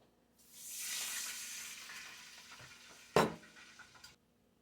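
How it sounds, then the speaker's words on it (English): Cream is poured into a hot skillet for Alfredo sauce, bursting into a sudden hiss that slowly fades into quieter bubbling, then a sharp clatter and a final short knock before silence. "the skillet is pretty hot now, so I'm going to add the cream in. And I'll let that come to a bubble."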